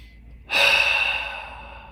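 One slow, deep breath, heard close and alone as an audible airy exhale during a Kinstretch mobility stretching session, rising sharply and then fading gradually.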